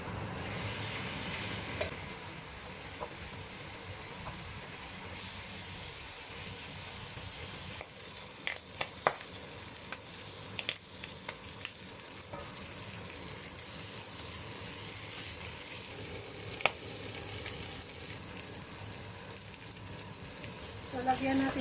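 Pork belly fries in a pan with a continuous close sizzle and hiss, broken by scattered sharp crackles and a few utensil clicks as the pieces are turned for even browning.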